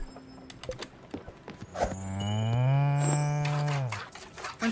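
A cow in the video game Spiritfarer gives one long, loud, drawn-out moo that swells and fades, preceded by a scatter of short clicks and soft knocks.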